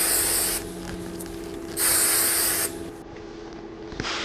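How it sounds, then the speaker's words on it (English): Volume hairspray is sprayed onto hair in two loud, close hissing bursts with a short pause between them, followed by a fainter quick spritz at the end. "I'm gonna use a little bit of my volume hairspray to finish out the look"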